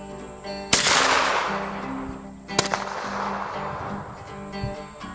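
.410 shotgun firing a slug and buckshot load at 15 yards outdoors, two loud close blasts about two seconds apart, each with a sharp crack and a rolling decay.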